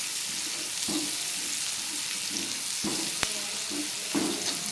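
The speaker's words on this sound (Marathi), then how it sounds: "कांदा बी छान परतून घेऊ." Onions being sautéed in a pan for a bitter gourd tikka masala, an even bright sizzle throughout, punctuated by a few soft spatula stirs and one sharp tap, no one talking.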